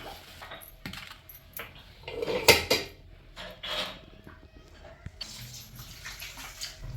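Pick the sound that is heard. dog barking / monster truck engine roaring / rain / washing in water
washing in water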